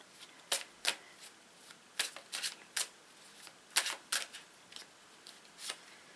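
Tarot cards are shuffled by hand in several quick, crisp riffling bursts with short pauses between them, close and fairly quiet.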